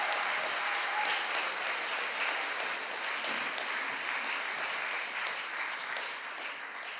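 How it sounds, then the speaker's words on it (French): An audience at the final of a French student speaking competition applauds the candidates, a dense, steady wash of many hands clapping that carries on for several seconds and tapers slightly toward the end, with no voices above it. "Mesdames, Messieurs, on applaudit à nouveau nos candidats."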